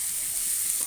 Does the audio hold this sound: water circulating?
no